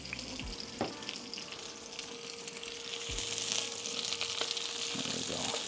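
Food sizzling and frying in avocado oil in a pan over an open flame, a steady crackling hiss with occasional stirring scrapes, growing a little louder over time.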